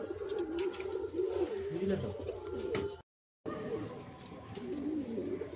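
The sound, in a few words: pigeons cooing in a loft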